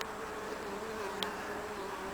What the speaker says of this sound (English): see that bee there now just going in there, had actually pollen on its legs